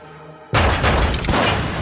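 A sudden loud boom cracks out of near silence in a house at night and leaves a long, heavy rumbling tail, like a gunshot in a closed space.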